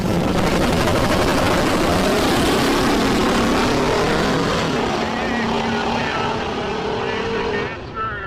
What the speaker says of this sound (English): the hot rod in the right lane, blowing everybody's eardrums out before it kicks a little sideways.